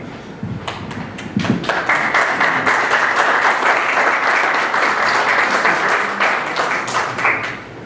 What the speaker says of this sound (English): You applaud